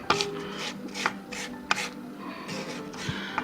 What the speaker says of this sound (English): take your spatula and you want to scrape down the sides of the bowl